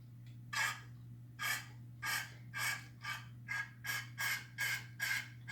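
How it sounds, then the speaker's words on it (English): Brake cleaner is sprayed into the oil gallery of a Triumph TR6 engine during a rebuild, giving about eleven short, evenly spaced hissing bursts over a steady low electrical hum. "And I'm going to brake clean."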